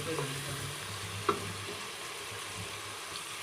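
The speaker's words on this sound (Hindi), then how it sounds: "मसालों को थोड़ी देर पकाएंगे और इसके अंदर मटर ऐड कर देंगे" Spices and green peas frying and being stirred in a pot for matar pulao, a steady low sizzle with light stirring scrapes and one brief clink, fairly quiet throughout with no talking.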